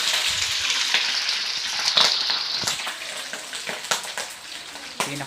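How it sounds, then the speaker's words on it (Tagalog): Puchero meat frying Batangueño style in hot oil, a dense continuous sizzle with sharp splattering pops throughout, loud and close, no voices. "kailangan natin siyang takpan kasi talagang tumatalsik yung mantika"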